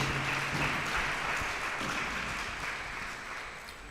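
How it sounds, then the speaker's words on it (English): Applause for UNFPA at an official book launch honouring Dr. Jotham Musinguzi, a dense, steady wash of clapping from a seated audience that holds evenly, then gradually thins and softens toward the end. "let's give UNFPA a very, very big round of applause."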